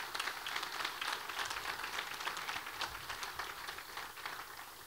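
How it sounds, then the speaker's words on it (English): An audience at an economic forecast event applauds the sponsors, a steady, fairly soft wash of many hands clapping that continues evenly without talk. "Let's give a big round of applause for our sponsors."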